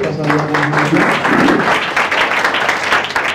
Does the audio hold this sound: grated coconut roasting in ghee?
no